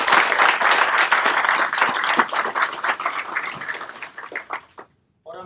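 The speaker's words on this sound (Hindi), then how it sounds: "तो जोरदार ताली बजाइए इन सबके लिए." Enthusiastic audience applause at a motivational talk, loud, dense clapping from a large crowd sustained for several seconds, thinning toward the end before cutting to silence and a brief final sound.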